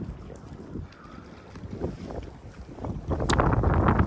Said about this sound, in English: Still a bit windy, but not nearly as bad as it was around the corner.